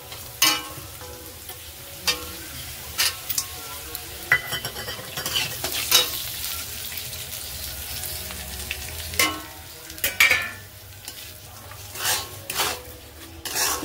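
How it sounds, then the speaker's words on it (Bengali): Potatoes fry in a pan and are stirred steadily, with a continuous sizzle broken by repeated scraping strokes of a utensil against the metal, close and moderately loud, with no talking. "আলু পুরো ভাজা হয়ে গেছে।"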